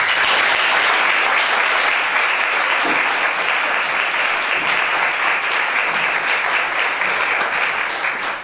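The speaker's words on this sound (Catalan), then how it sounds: "demanaria un aplaudiment per l'Ignasi Olear Comelles" An audience in the theatre of the Patronat Parroquial in Esparreguera applauds at a campaign closing event. The clapping is loud and dense, holding steady throughout before easing slightly at the end.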